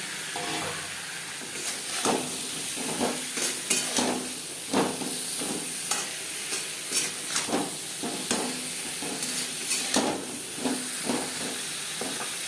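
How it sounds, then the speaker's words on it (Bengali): Eggplant pieces sizzle and hiss while frying in a spice paste in a pan, with repeated scraping stirs of a spatula striking the pan at irregular intervals, close and clear. "3-4 মিনিট মশলা কষিয়ে নেওয়ার পর দিয়ে দেবো বেগুন।"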